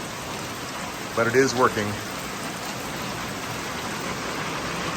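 Heavy rain falls steadily, with water running through a trench beside a pipe too small to carry it all. The broad, even wash fills the whole stretch, and a voice speaks briefly over it.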